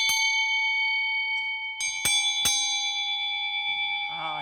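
Two cast bells at a centuries-old bell foundry, one high-pitched and one low, struck in turn with sharp metallic onsets and long sustained ringing tones that linger together, close and clear, with a brief voice near the end.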